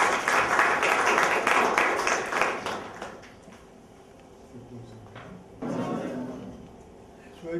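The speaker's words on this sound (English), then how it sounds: "So please give him a round of applause" An audience applauds a speaker at an academic talk, loud dense clapping for about three seconds that fades out, followed by a quieter stretch and a second short burst of clapping.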